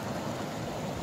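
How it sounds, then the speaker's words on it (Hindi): Fast-flowing mountain river water near Fagu, a steady broadband rushing wash that fills the short moment without a break, heard up close and fairly loud. "ये देखिए पीछे बिल्कुल पानी बहुत स्पीड में से चल रहा है"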